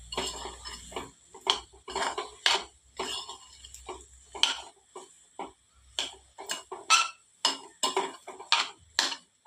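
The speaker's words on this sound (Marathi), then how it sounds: "पुन्हा एकदा मिक्स करून घेऊ." A spoon mixes food in a metal pot with repeated sharp scraping clinks against the sides, coming in quick irregular bursts. It sounds close and clear, with no talking.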